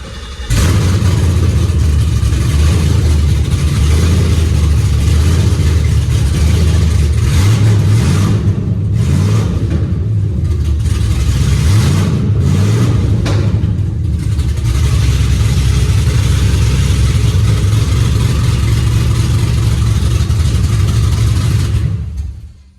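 A 1989 Chevy Caprice with a 408 stroker engine starts and runs, a loud, close, steady rumbling idle with slight throttle swells throughout.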